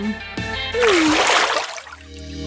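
A vegetable plops into a container of water, throwing up a loud, close splash and brief sloshing that fades out, preceded by a short vocal sound.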